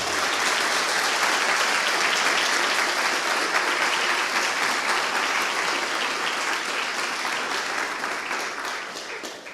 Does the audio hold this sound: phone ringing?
no